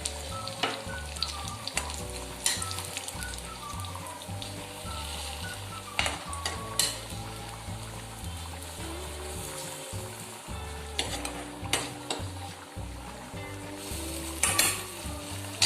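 A hot coconut-oil tempering goes into a boiling Kerala-style prawn and raw mango curry, giving a soft, continuous sizzle with occasional clinks of a pan or utensil, and no voices.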